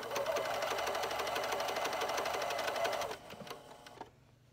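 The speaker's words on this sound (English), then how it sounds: "Now I'm going to keep sewing." A sewing machine stitches fabric for a travel sleep mask and headband, a steady fast mechanical whirr running for about three seconds, then slowing and stopping with a few faint clicks.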